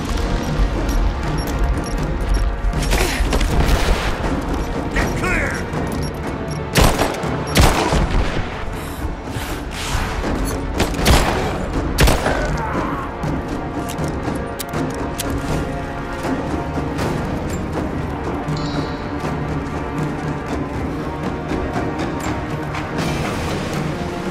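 A grenade explosion and gunfire in the video game Rise of the Tomb Raider, with dense volleys of shots and heavy booms crashing repeatedly over a rumbling battle din, loud throughout.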